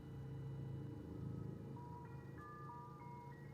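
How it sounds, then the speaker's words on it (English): A tinny ice cream truck jingle plays in the video game Signalis, a simple stepped melody of clear tones over a low droning hum, fairly quiet and alone. "Alright, there's the ice cream truck again."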